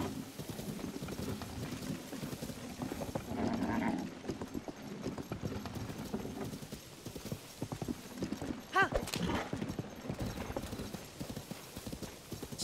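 Horse hooves clip-clop at a steady walking rhythm in a video game, fairly close, with a brief whinny along the way and game sounds and chatter running beneath.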